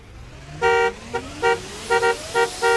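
A car horn honks in about six short, loud blasts of uneven length, spaced irregularly over a faint low background hum, in a street scene from a Pakistani drama.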